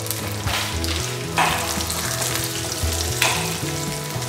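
Cashews and raisins frying in ghee in a pan for semiya payasam, a steady crackling sizzle with a few bursts of stirring, close and unbroken, no talk.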